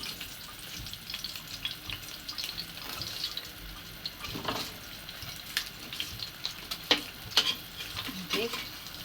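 Steady sizzling of tilapia frying in a pan, with occasional scrapes and stirring clinks, close and moderately quiet.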